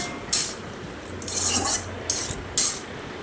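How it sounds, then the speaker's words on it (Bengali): A metal spoon stirring poppy seed paste into ridge gourd in a pan, with several distinct clinks and scrapes against the metal spaced irregularly over a soft sizzle, close and clear. "পোস্ত বাটাটা দিয়ে একটু আবার নাড়িয়ে চাড়িয়ে দেবো।"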